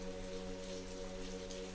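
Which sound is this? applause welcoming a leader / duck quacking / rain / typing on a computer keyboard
rain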